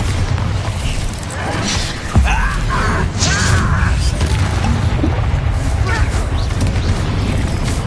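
A Bombarda blasting spell goes off in the Hogwarts video game: a loud, sustained rumbling explosion with a sharp impact hit partway through and crashing debris mixed into dense game noise.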